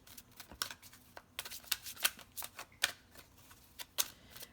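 Angel Answers oracle cards are shuffled by hand, a quick irregular run of crisp, close flicks and riffles heard alone.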